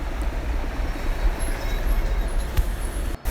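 Busy Erode railway station platform ambience, a continuous low rumble of trains and crowd noise with faint distant clatter, moderately loud and steady.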